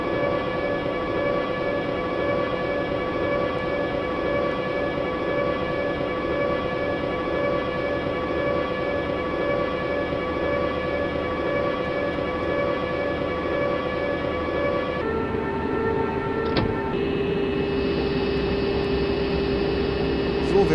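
A simulated train in MS Train Simulator runs into Berlin toward Berlin Zoo, a steady droning hum with sustained whining tones that shift abruptly near the end, with a brief click.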